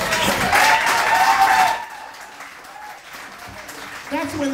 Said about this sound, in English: That's when the applause comes.